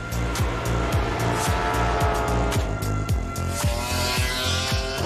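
MotoGP motorcycles race at high speed around the Bugatti circuit at the French Grand Prix, engines droning loudly and continuously with repeated rising and falling revs as the bikes shift gears.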